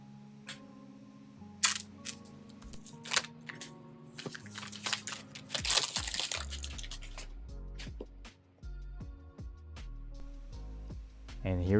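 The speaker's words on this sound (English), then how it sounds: "let's find the flap right here, and let's go ahead and unwrap it" Crinkling and tearing of thin plastic wrap pulled off an iPhone 12 box, a close run of crisp crackles and snaps with sharper bursts in the middle, ending in softer handling thumps.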